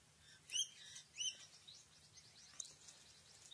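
Birds sing in lush mountain foliage at Tamborine. A few short, high chirps come in two quick bursts, then faint scattered twitters, all quiet and distant over a low steady hum.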